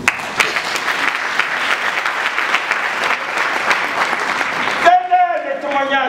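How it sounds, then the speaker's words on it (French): A church congregation breaks into dense, sustained applause for about five seconds, which stops abruptly as a voice resumes speaking. "Acclamons le Seigneur pour eux."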